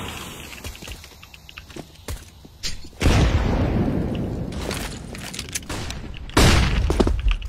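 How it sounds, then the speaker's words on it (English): A flashbang grenade bursts in a video game with a sudden loud, broad blast, followed by a sustained roaring wash and a second loud surge, over scattered clicks and thumps. "What a fucking flashbang."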